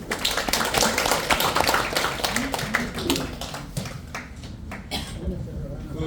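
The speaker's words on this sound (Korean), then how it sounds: "박수로 맞아주십시오" Applause from a lecture audience welcoming the start of an apple-growing academy class run by Andong Nonghyup, a dense, steady patter of many hands that carries on under a talking voice.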